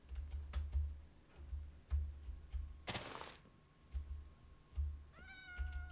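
A black cat in Minecraft gives a clear rising meow near the end, after quiet stretches of soft ticking and clicking game sounds, with no voices.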